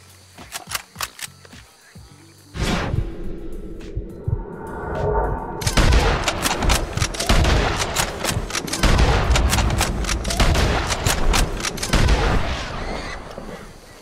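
Gunshots fired at a boar while hunting a legendary animal in Red Dead Redemption 2, a few sharp isolated cracks followed by a loud, dense stretch of rapid firing and game ambience.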